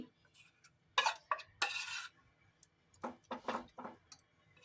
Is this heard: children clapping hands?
no